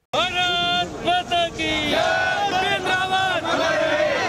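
A large crowd outside a cremation ground in India, gathered for General Bipin Rawat's funeral, chants slogans in loud, continuous unison, with voices rising and falling in sustained rhythmic shouts.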